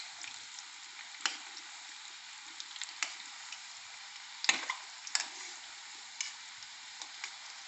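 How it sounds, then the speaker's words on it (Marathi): Chilli onion bhaji frying in hot oil, a steady soft sizzle running throughout with a few sharper crackles and pops scattered across it, heard close and alone. "भजे तेलात छान झालेले आहेत, आता आपण दुसऱ्या साईडवर त्यांना परतून घेणार आहोत।"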